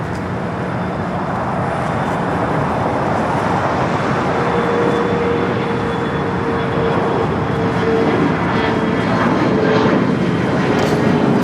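A United airliner takes off on runway 25 right at Los Angeles International Airport, its jet engines producing a loud, continuous broadband roar that holds steady and builds slightly throughout, with no voices heard.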